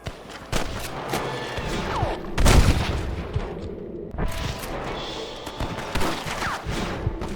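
Gunfire rattles through a shootout in the video game Red Dead Redemption 2, with repeated close shots and one heavy blast partway through, loud and continuous.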